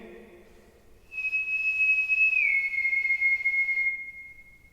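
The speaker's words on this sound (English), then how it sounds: "Do the whistle again" A person whistles one long sustained note at a ghost hunt, holding the pitch then dropping slightly partway through, clear and fairly close over a quiet background with faint voices at the start.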